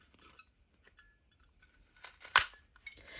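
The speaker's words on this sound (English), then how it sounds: "Let's snip off the ends." Scissors cut through card during a faux metal charm papercraft project, making one sharp, close snip with light paper rustling before it and a few small handling clicks after.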